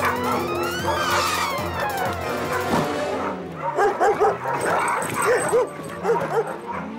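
Cartoon dog Odie from Garfield barking and whimpering, first a run of yelping barks, then a string of high, wavering whines and whimpers close up over a soundtrack bed.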